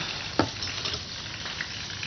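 Butter goes into hot pure cow-turmeric essence, giving a continuous soft sizzle with a single sharp stirring clack near the start and faint scraping stirs afterward.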